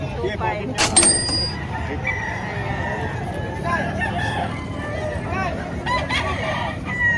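A rooster crows amid a busy chicken market in Padre Garcia, Batangas, one loud crow near the start rising above steady crowd chatter, with people talking throughout and more bird calls scattered in the background.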